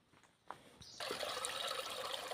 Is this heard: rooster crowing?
no